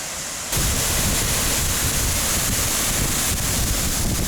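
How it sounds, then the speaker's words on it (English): Waterfall in Bali, a loud steady broadband rush of falling water that starts abruptly after a quiet half second and continues unbroken. "there's a fun fishing waterfall over here"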